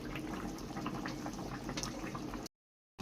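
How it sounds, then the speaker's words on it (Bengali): Hilsa fish sliding into a simmering eggplant curry broth, a steady close bubbling and sizzling hiss that runs evenly and then cuts off abruptly near the end. "ইলিশ মাছ চলে যাচ্ছে বেগুনের ঝোলে"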